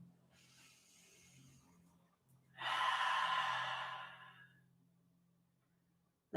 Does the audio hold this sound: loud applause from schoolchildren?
no